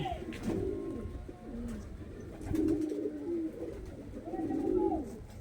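Pigeons coo in a home loft in Kolkata, with repeated low rolling calls arriving in three or four close bursts over a steady background.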